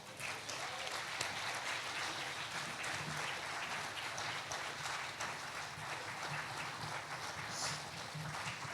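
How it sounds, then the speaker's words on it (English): Audience applause welcoming panelists onto a stage at an art conversation event, a dense, even wash of many hands clapping at a distance, sustained without letup. "Round of applause."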